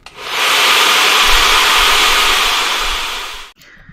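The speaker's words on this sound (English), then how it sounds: "a good example for this is a hairdryer" A hair dryer blows steadily with a loud, airy whoosh for several seconds, then cuts off abruptly, leaving faint room noise.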